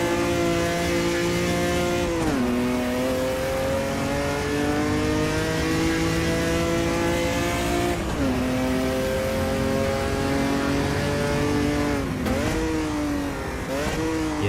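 An Opala 86 race car engine in Automobilista 2 at Goiania, a loud steady mid-pitched drone that drops sharply on three downshifts, then climbs again, close and continuous with no talk.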